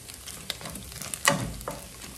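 Bacon sizzling in a wok, a soft, steady close crackle with a few brighter spits and a quick scrape near the end.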